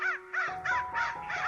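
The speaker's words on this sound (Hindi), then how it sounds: "एक जंगल में कौवे रहते थे।" Crows in a forest give five harsh, rhythmic caws in quick succession, close and loud over a thin steady hum.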